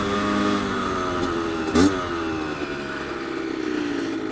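A motorcycle engine runs steadily with a quick throttle blip while downshifting, a short sharp rise and fall in revs before settling back to a moderate, fairly close drone.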